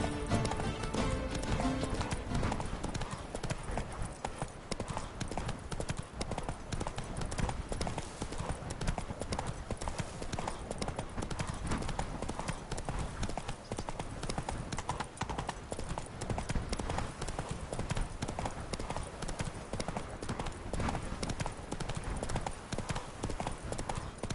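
Horse hooves clip-clopping steadily at a walking or trotting pace while riding in The Witcher 3 video game, continuous rhythmic hoofbeats over game ambience.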